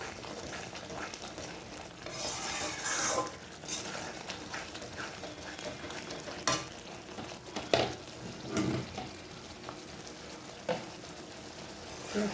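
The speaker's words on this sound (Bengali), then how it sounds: "মশলা কষানোর সময় কিন্তু মশলায় জল দেওয়া যাবে না, মশলাটা একদম ভালোভাবে কষাতে হবে" Spice paste stir-fries in oil in a pan, sizzling continuously while a spoon scrapes and stirs. The stirring comes in irregular louder bursts over the steady crackle.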